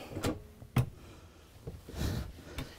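Soft-close drawers in a 2017 Renegade Verona 40VRB RV glide and bump shut, giving several muffled thuds and sliding sounds at moderate volume with no speech.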